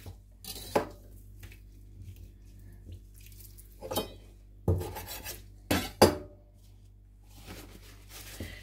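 A knife cutting through salmon on a kitchen board, a few quiet scraping and knocking cuts with soft clatters between them, close and faint with no talking.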